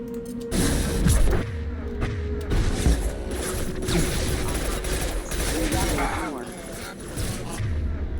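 Sustained gunfire fills a firefight in Mass Effect 2, rapid shots and blasts rattling loud and continuous with whooshes and crashes, while a player's voice calls out over the action.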